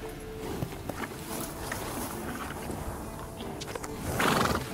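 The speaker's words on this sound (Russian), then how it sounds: "Ух ты, какая красивая лошадь." A horse in the video game The Witcher 3 whinnies and snorts amid clip-clopping hooves and background game ambience, with a louder burst near the end.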